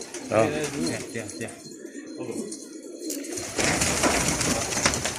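A pigeon coos softly and close by, several low throaty calls under a man's speech, with background noise rising toward the end.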